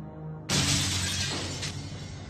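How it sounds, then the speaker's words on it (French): Glass shatters in one sudden loud crash after a brief hum, then bright tinkling fragments keep scattering and ringing out for a couple of seconds as a sound effect. "Il y avait un bruit de verre brisé."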